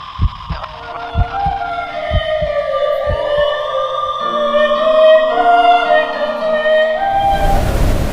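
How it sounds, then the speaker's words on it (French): Wailing sirens rise and fall over a low thumping pulse, then a burst of noise cuts in at the end. "pourquoi il y a des sirènes?"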